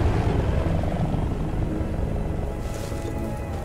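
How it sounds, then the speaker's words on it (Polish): Russian attack helicopters in Battlefield: Bad Company 2 drone with a steady, heavy rotor rumble that stays loud and close throughout, its low throb dominating a dense battlefield mix. "Uwaga! Ruskie śmigłowce."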